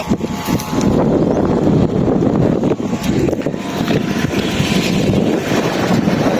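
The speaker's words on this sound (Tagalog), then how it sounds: "Malakas ang hangin eh." Strong wind roaring and buffeting against the microphone, a continuous loud rumble with gusty fluctuations, at a kite-flying event.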